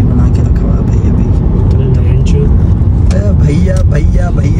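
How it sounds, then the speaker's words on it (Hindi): A Mercedes GT is driven, its engine and road noise forming a loud, constant rumble from inside the car while someone talks over it. "अब्दुल्ला भैया ड्राइव कर रहा है गाड़ी को"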